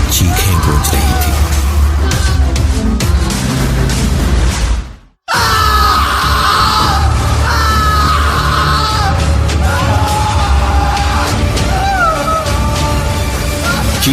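A man's anguished screams in a horror story sound effect, loud and sustained, echoing against a dense noisy backdrop that cuts out briefly midway before the wailing resumes.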